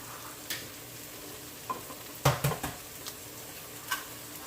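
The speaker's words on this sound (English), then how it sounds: "I'm going to break my eggs." Eggs cracked into a cup while making Jamaican-style bacon and eggs: a handful of quiet, sharp taps clustered together over a soft kitchen background.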